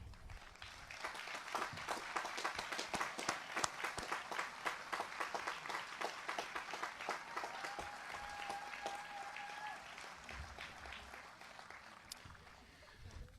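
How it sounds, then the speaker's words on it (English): A graduation audience applauds scholarship graduates with a long, fairly distant round of individual claps that is steady at first and thins toward the end, with a brief tonal whistle partway through. "let us recognize you with a well-deserved round of applause"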